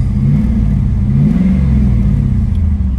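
A 2002 Pontiac Firebird with automatic transmission idles and revs, its engine rumbling loud and close in a steady low drone that swells and eases over three seconds, with no talking.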